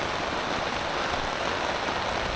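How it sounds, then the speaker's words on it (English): Heavy pouring rain hisses as a dense, even wash of noise, steady and close throughout, with no voices. "it is pouring down rain still"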